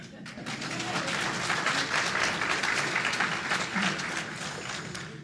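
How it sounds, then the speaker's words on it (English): Sustained crowd clapping fills an electric cooperative's annual member meeting, an even, busy patter holding steady throughout with a few voices mixed in. "y'all can clap for that."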